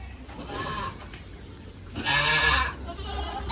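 Karumbi dwarf goats bleat indoors in a pen room, two drawn-out calls a second or so apart, the latter louder and closer, over a soft room hum.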